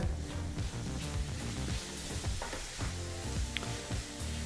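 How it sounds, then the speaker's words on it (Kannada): Masala powders, including garam masala and a pinch of turmeric, are stirred into frying capsicum, tomato and onion for capsicum masala rice, giving a steady close sizzle with scraping stirs throughout. "ಈ ಮಸಾಲ ಪುಡಿಗಳು ಚೆನ್ನಾಗಿ ಬೆರಿಬೇಕು ಅಲ್ಲಿವರೆಗೂ ಮಿಕ್ಸ್ ಮಾಡ್ಕೋಬೇಕಾಗತ್ತೆ"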